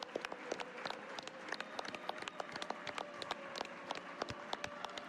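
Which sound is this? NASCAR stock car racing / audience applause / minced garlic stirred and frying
audience applause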